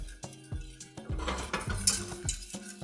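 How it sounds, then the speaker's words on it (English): A whisk works butter cubes into a sauce in a pan, producing rapid clinking and scraping against the metal with a faint sizzle underneath, in quick irregular strokes close by. "You just do that slowly, a couple cubes at a time, whisking constantly"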